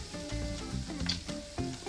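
Bacon sizzling in a frying pan, a dense close crackle with popping spatter and some low clatter of handling, steady throughout with no voice.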